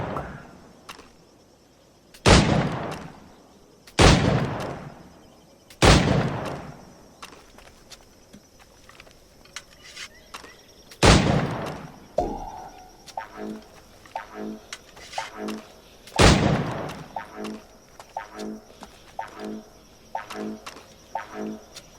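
Sharp gunshots at targets in Assassin's Creed IV Black Flag, five loud cracks spaced a second or more apart with decaying tails, followed by a quieter run of rhythmic clicks and soft thuds.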